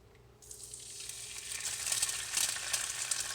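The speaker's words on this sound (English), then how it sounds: "And they're gonna pop a little bit because the grease is hot." An egg frying in hot bacon grease in a pan, a sizzle that starts abruptly and swells steadily louder with small pops, close and alone.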